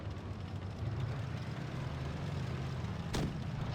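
A single tank cannon shot fires near the end of a low rumbling World of Tanks Blitz battle, a sharp boom over a steady engine drone.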